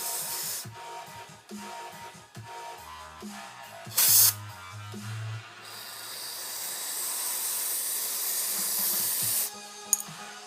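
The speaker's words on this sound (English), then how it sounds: "Spray all that grease out of there." Repeated short sprays of cleaner hiss from a nozzle into a greasy Traxxas Slash 4x4 RC car part, then a longer steady spray runs for several seconds, close and fairly loud with some clatter between bursts.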